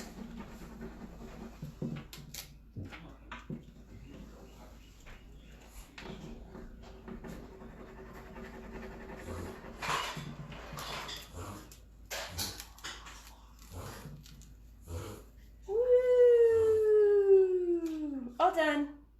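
A pet puppy lets out a loud, rising and falling whimpering whine near the end, following scattered indoor knocks and shuffling sounds.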